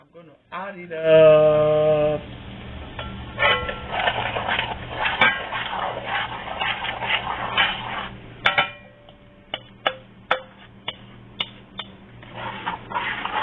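A blended mixture for yam porridge (asaro) goes into a metal pot with pouring, scraping and a run of sharp spoon taps on the rim, heard close under a voice talking.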